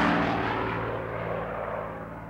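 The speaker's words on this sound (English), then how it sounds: "Fast traffic buys in Bug City were made from World War II era P-51 airplanes" World War II P-51 airplane engine drone used as fast bug traffic, a steady loud propeller roar slowly fading as it passes, heard alone.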